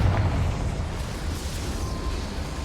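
Confringo fire spell exploding in the game Hogwarts Legacy, a single burst with a rumbling low boom that decays over a couple of seconds, alone without talk.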